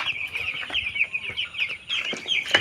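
Ross 308 broiler chicks in a brooder give a continuous stream of close, high-pitched peeping and chirping, with brief rustles and shuffling among them.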